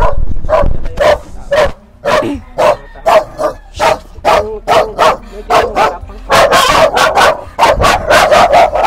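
A dog barking rapidly and repeatedly near a damaged house, sharp loud yaps in quick bursts with a few whimpering yips mixed in, close and insistent, with people talking briefly in the background.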